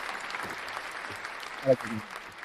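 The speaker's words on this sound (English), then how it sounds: "we'll give him the applause for this round. Let's hear it." Applause from a stadium crowd at an LA Galaxy versus Austin FC soccer match, heard as a steady, moderately distant wash of clapping that runs throughout, with a brief louder burst near the end.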